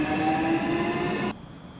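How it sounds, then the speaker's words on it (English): A Class 465 electric train accelerates, its inverter giving off a steady, layered tonal whine over the rolling rumble of the carriage, which cuts off abruptly partway through. "Some newer-ish trains have a rising carrier frequency as they accelerate,"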